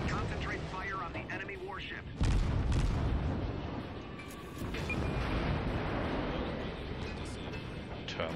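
Warship guns firing in World of Warships, a heavy booming blast that surges the rumble and lingers, with further deep roars and a voice talking over the battle.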